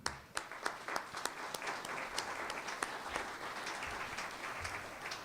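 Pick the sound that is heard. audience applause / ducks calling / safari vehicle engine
audience applause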